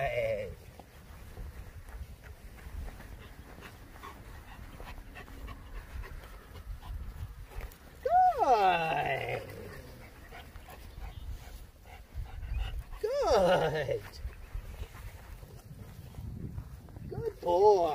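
A dog being eased around a yard on a leash and collar pants softly, with a couple of brief high whines rising over quiet outdoor background.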